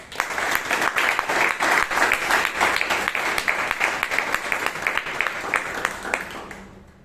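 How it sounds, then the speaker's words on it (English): A round of applause from the audience at a Bangalore Toastmasters club meeting, even and sustained clapping from a roomful of people that holds for about seven seconds before fading out. "Can we give her a round of applause?"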